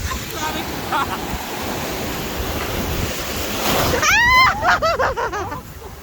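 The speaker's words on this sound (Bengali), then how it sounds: "আরেকটা আসতেছে ঢেউ।" Atlantic surf rolls and breaks on the beach at De Panne, Belgium, a continuous close rushing wash with wind noise, while brief high calls or voices rise over the waves near the end.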